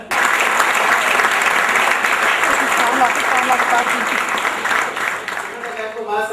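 An audience at a GMI bike ceremony bursts into loud, sustained applause from many hands, continuous for several seconds before tapering slightly, with a faint voice near the end.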